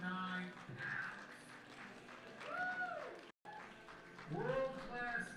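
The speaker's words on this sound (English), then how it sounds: "Give her a big round of applause." Spectators at the 2023 Powerlifting America Bench Press Nationals applaud a female lifter, steady clapping and crowd noise beneath an announcer's voice, broken by a brief dropout midway.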